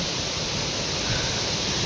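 Steady broadband rush of a river flowing close by near a hillside house, continuous and fairly loud with no voices.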